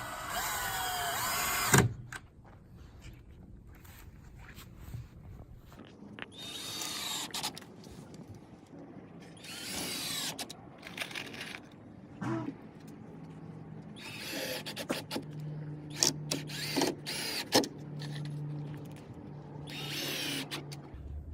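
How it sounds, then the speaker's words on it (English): A power drill driving screws into wood whirs in several short bursts, pausing between runs, with handling noises and light clatter around it. "I'm just gonna drill these into here"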